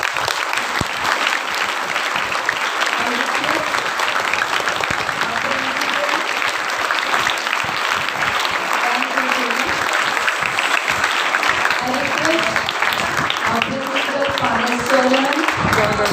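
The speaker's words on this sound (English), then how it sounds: "Let's give a thunderous applause" Loud, continuous applause from an audience at a Women's Equality Day program, clapping steady and dense throughout, with murmured voices and cheering faintly mixed in underneath.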